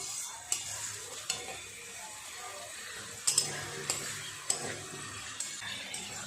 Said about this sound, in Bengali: খুব ভালো করে আলুর সাথে মশলাটাকে একটু কষিয়ে নেব।